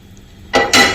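Ragi dosa batter being stirred and mixed with a spoon after the tempering is added: two short, bright scraping bursts close by, following a near-silent moment.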